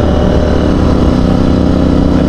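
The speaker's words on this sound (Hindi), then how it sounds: "और लाउड भी है काफ़ी ज़्यादा यार ये सुपर मीटियोर।" A Royal Enfield Super Meteor motorcycle idles loudly and close by, a dense, steady engine rumble with no breaks and no talk.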